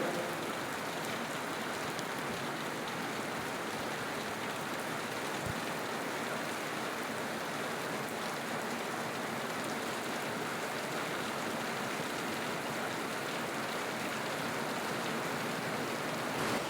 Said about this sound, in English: Especially now it's raining heavily outside.